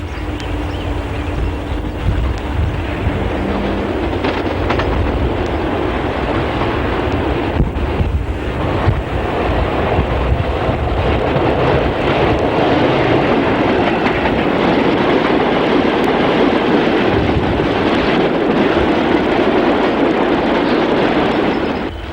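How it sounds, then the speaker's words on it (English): British Rail Class 40 diesel locomotive 4126 passes heading south at Craven Arms, a loud, steady roar of engine and rolling wheels that holds throughout, with heavy wind buffeting on the microphone. "Train robbery loco 4126 heads south at Craven Arms, possibly heading for Newport."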